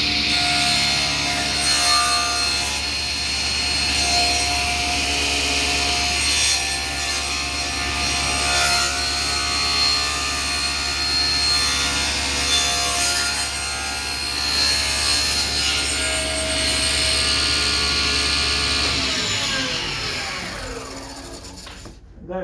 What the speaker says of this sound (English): I gotta do this with a 2 cuts and then my little jigsaw.